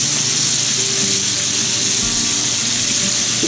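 Duck breast with rendered fat sizzles steadily and loudly in a pan, a constant close frying hiss with faint clinks as the meat is turned over.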